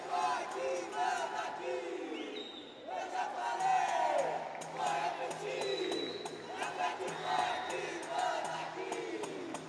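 Arena crowd roaring and shouting for the new lightweight champion at a Fight Leste MMA event, a dense sustained din with cheers swelling and falling, announcer talk running over it.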